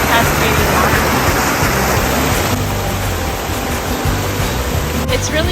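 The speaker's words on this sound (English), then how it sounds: "you see these beautiful little cascading waterfalls" Small cascading waterfalls rush through a stream beside a tiny bridge near hot springs, a loud, close, steady broadband roar of water with no break.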